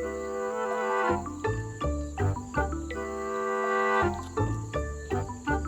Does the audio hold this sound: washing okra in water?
no